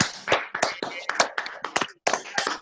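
Scattered applause from a few people over open microphones in an online meeting, with irregular, close, distinct claps and brief gaps in between.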